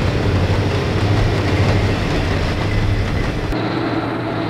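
A loud Erie Lackawanna train rumbling past close by near Great Bend, with a heavy rolling roar and rhythmic clatter of wheels that cuts off abruptly near the end.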